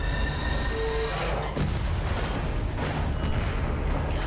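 Train rolling along railway tracks in the zombie shooter game Zombie Army 4, a steady low rumble with a faint squealing tone, continuous and fairly close with no talking.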